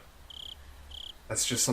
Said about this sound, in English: you guys don't have to hear the cicadas fucking buzzing as much anymore